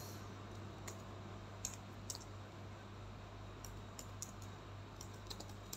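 Keys on a computer keyboard tap out a word in a quiet room, a scattering of light irregular clicks over a low steady hum.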